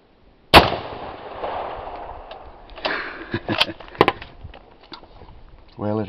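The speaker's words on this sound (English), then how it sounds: "Successful firing, so we're ready to go ahead and shoot it." A Remington 1903A3 rifle rechambered in .308 Norma Magnum fires one loud, sharp shot close by, and its blast rings away outdoors. A few knocks and clicks follow, and a voice comes in near the end.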